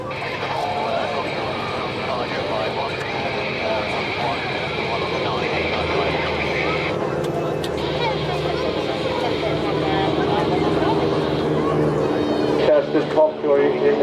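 Wing walking display aircraft of the Aero Superbatics team fly past at Blackpool Airshow, a steady engine drone under continuous public-address commentary with crowd noise, swelling slightly toward the end.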